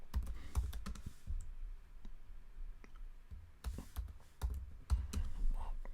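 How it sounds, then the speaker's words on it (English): Typing on a computer keyboard, a quiet stream of irregular key clicks close up, with a brief lull in the middle before the rapid tapping picks up again. "I'm just going to type in manage"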